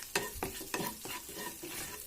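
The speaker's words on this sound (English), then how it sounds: "I'm going to add a little mustard seeds, few mustard seeds." Mustard seeds dropped into hot oil for an egg masala, crackling and sizzling under a few sharp stirring clinks, close and moderately quiet.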